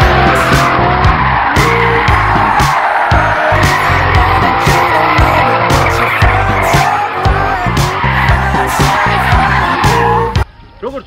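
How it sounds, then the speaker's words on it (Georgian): Mercedes E55 AMG, a sporty E-Class on 18-inch aluminium wheels, driving hard with loud, sustained tire squeal and skidding over its engine roar, close and continuous until a sudden drop near the end. "წარმოგიდგენთ Mercedes-ის ერთ-ერთ ყველაზე წარმატებულ მოდელს, ეგრეთ წოდებულ ბალფარი. ერთოდ კი მის სპორტულ ვერსიას E55 AM-ის."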